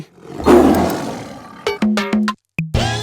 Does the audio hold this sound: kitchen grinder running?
no